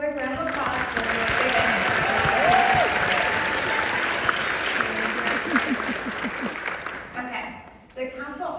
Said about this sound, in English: Let's give them one last quick round of applause